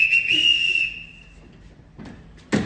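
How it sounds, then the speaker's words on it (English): A sharp whistle is blown to summon the household in a staged Sound of Music performance, one long shrill blast that fades out, followed by quieter stage noise and a short burst near the end. "Everyone in this house answers to a whistle."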